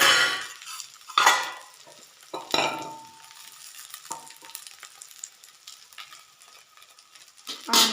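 Soaked sabudana is stirred in a pan with peanut powder and salt, making close scraping and clinking strokes from the spoon over a soft, steady sizzle, with no one talking.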